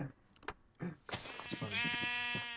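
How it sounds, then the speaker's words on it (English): A Minecraft sheep bleats in a wavering, nasal cry that swells and holds for over a second, after a few short clicks and soft game noises. "There's so many blue sheep in there!"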